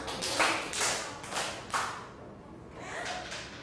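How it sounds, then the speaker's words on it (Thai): A group of students in a classroom claps in unison on a teacher's cue: several soft, slightly ragged bursts close together, then a pause and one more, all fairly quiet. "กลุ่มที่หนึ่ง ปรบมือสามครั้ง"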